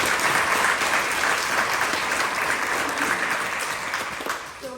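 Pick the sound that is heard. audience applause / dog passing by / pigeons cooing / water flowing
audience applause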